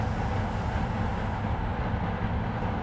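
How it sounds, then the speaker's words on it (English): A train in the Trainz Railroad Simulator 2019 game runs along with a steady, even low rumble and rolling noise, continuous and moderately quiet throughout. "I do want to slow this train down just a little bit more"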